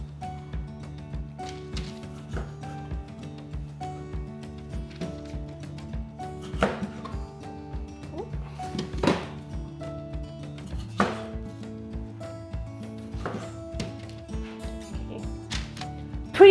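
A kitchen knife cuts tomatoes and onions in half on a chopping board, making a steady series of soft, close thunks.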